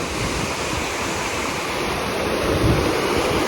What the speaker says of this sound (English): enjoy the water running by, rushing by.